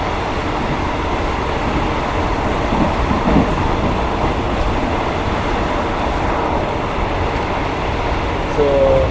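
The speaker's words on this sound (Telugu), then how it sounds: "ట్రైన్ మాత్రం చాలా ఖాళీగా ఉంది." Constant low rumble and rattle of a train rolling along the rails, heard from inside a nearly empty carriage in Thailand, loud and unbroken.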